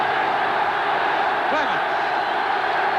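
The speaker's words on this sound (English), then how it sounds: "Listen to this Northern Ireland crowd." A large Northern Ireland football crowd roars steadily throughout a match against England, a dense continuous wash of voices with no clear breaks.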